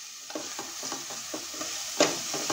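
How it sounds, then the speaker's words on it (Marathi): Ginger, garlic and onion sautéing in a little oil, with a spoon stirring in regular scraping strokes over a soft, steady sizzle, close and moderately quiet, no talking. "आलं लसूण आणि कांदा सगळा व्यवस्थित परतला गेलेला आहे"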